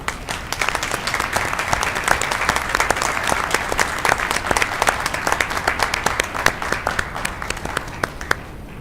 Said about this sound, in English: give a round of applause to the Roswell SWAT team